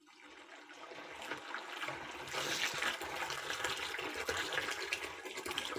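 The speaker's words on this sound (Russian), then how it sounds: "Заливаем это все водой." Water poured from a mug into a bucket of sifted wood ash, building from a soft trickle into a steady rushing, splashing fill that runs on for several seconds close by.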